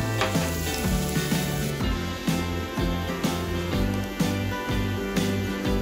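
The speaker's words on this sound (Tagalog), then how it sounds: "Igisa na ang bawang hanggang sa mag-light brown ito." Garlic sautéing in hot oil in a pan, cooked toward light brown, gives a steady close sizzle with repeated stirring scrapes and a few soft clinks, and no one speaks.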